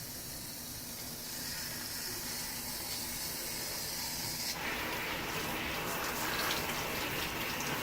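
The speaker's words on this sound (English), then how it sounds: "run water over his head." Water runs and splashes steadily over a dog's head during a bath, a hissing gush that grows louder and brighter partway through, close by with no talking.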